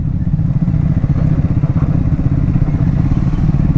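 A Triumph Speed 400cc motorcycle engine running close by, a loud, steady, throbbing rumble with even pulses throughout and no voices.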